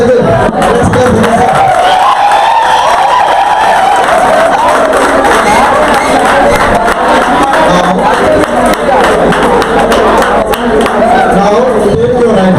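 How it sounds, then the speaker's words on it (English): A crowd at a guest lecture claps and cheers loudly and continuously, with a general roar of voices. Scattered shouts and talk mix into the applause throughout. "Once again, let's clap for that."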